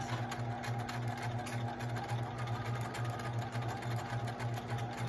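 A sewing machine stitching a zigzag, its close, steady mechanical hum and rapid rhythmic needle chatter running continuously without a break.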